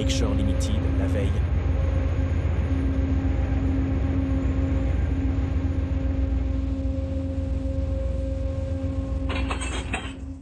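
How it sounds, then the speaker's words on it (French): An Amtrak P42 diesel locomotive leaves the depot, its engine giving a loud, steady drone with tonal hum, close by and continuous, while a voice talks over it and the sound fades slightly near the end. "le P42 numéro 92 quitte le dépôt et se dirige vers le train 63"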